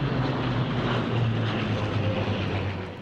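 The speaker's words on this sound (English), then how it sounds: "to see the aeroplanes low level through the harbour" Merlin-engined propeller aeroplanes fly low over Grand Harbour, Malta, making a loud, continuous engine roar that holds steady throughout.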